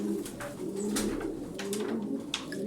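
Several smoky tumbler pigeons coo in a continuous, gently pulsing chorus close at hand, with a brief sharp tap near the end and no voices.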